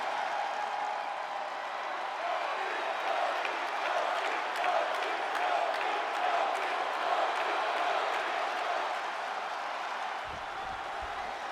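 A large arena wrestling crowd roars and cheers continuously for Kofi Kingston's entrance, a dense, sustained wash of voices and applause with scattered sharp claps throughout, fairly distant and even in loudness.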